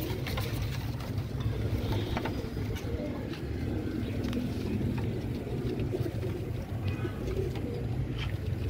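A flock of domestic pigeons, an original Ustad Imam Deen breed kept in a loft, cooing steadily under a constant dense background hum and rustle, with faint voices at times.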